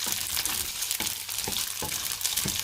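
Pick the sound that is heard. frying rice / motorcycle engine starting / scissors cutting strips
frying rice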